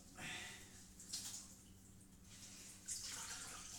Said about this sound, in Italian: stanno uscendo i pezzi di ghiaccio, le granite dal lavandino qui, dal rubinetto